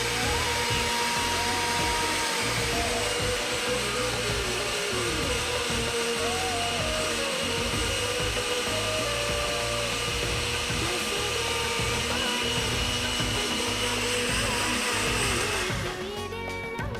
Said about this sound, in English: I'm gonna run this through a blender